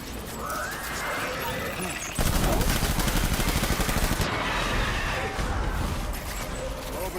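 Sustained, dense gunfire in the Death Stranding video game, a continuous loud rattle of rapid shots with a sharp jump in intensity partway through, with voices calling out over the barrage.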